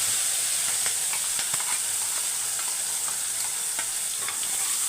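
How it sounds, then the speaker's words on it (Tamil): Dried red chili and a ground paste frying in hot oil in a pan, a steady loud sizzle and hiss with faint stirring clicks, no talk. "இது கூடயே ஒரு காஞ்ச மிளகாவும் கிள்ளி போட்டுக்கோங்க நல்லா பொரிஞ்சு வந்தவுடனே அரைச்சி வச்சதை சேர்த்துறேன்"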